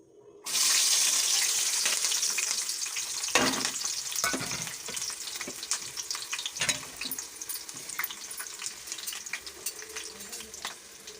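Sliced onions and six or seven green chillies hit four spoons of hot oil in a pan with a sudden loud sizzle that settles into steady crackling frying, broken by scraping stirs.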